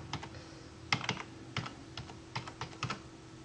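Keys clatter on a computer keyboard, a string of light separate taps in an uneven rhythm, close and fairly quiet with a low steady hum underneath.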